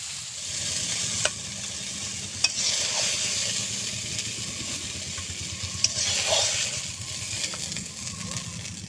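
Fish frying in a pan being stirred, a dense continuous sizzle with scraping and occasional sharp clicks of the utensil, close and loud with no talk.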